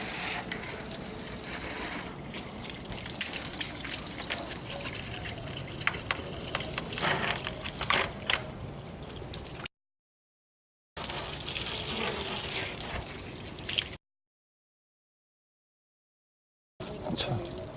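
Water from a tap gushes over an air conditioner filter being washed at home. Loud running water comes in long bursts, broken by two silent gaps, with faint voices now and then.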